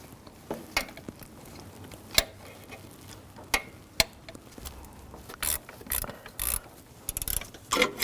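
A ratchet tightens bolts on the water pump of a 2007–2013 BMW 328i with the 3.0L inline-six, giving close, sharp clicks in irregular bursts against a quiet background.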